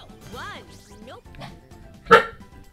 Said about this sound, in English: Excuse my dog barking